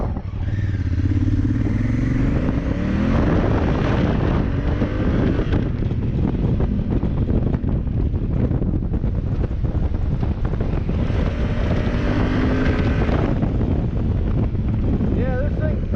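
A Honda Africa Twin adventure motorcycle being ridden at speed: a continuous loud engine drone with heavy wind buffeting the microphone throughout.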